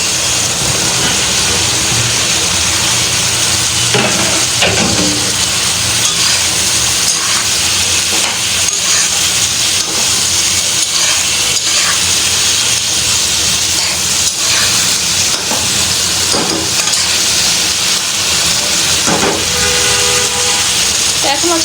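Brinjal sizzles loudly with spices in a hot pan, a dense, unbroken frying hiss filling the whole stretch with faint stirring knocks underneath.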